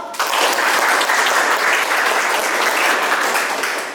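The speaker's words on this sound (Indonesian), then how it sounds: "Beri aplaus." A room of students claps together in steady, loud applause that starts abruptly and holds evenly for several seconds before easing slightly at the end.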